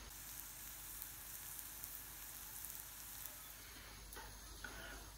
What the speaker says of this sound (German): Dann gebt ihr euer Brot einfach in die Pfanne und lasst das ein bisschen rösten.